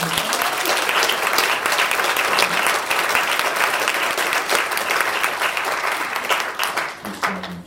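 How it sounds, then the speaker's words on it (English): An audience at a graduation ceremony gives a round of applause, many hands clapping loudly and evenly before the noise tapers off near the end. "A quick round of applause for them."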